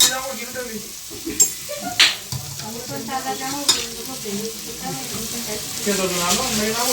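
Food is sautéed in a hot pan at home, giving a soft continuous sizzle broken by sharp clacks and scrapes of stirring, while someone talks over it throughout.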